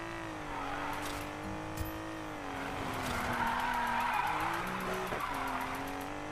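Tyres squeal continuously as a car drifts round a bend in the racing game Need for Speed Payback, with a steady engine drone under the long, loud skid.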